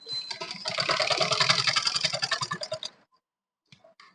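Sewing machine stitching along folded fabric for a kurti, a fast steady whirring run of needle strokes for about three seconds, then stopping, with a few faint clicks after.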